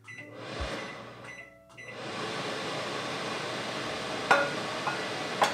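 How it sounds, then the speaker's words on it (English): A microwave range-hood fan runs as a steady, moderately loud whoosh that starts, briefly cuts out, then keeps going in a kitchen during soap making with coconut milk, with a few sharp clinks near the end. "I'm going to turn on the microwave fan so it's going to get a little loud."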